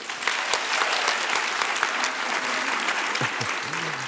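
A large audience at the Abbey Theatre applauds loudly and continuously, a dense wash of clapping with a few faint voices rising near the end.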